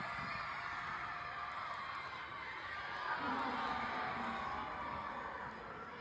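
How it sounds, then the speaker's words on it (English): A school gym crowd at a unified basketball game, with students with special needs playing alongside peers, makes a continuous faint cheer of shouts and whoops, swelling slightly partway through, with voices talking under it. "but listen to the crowd."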